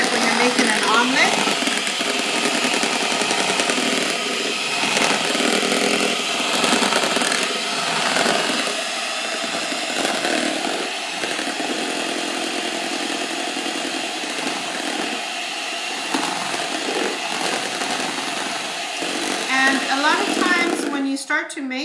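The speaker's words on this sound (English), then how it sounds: "And you just add that in and blend it." A blender whirs steadily, beating egg batter for chile rellenos into a fluffy froth, the motor's dense broadband drone running loud and continuous for about twenty seconds before a brief rattle at the end.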